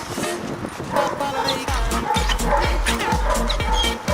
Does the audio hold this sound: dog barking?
yes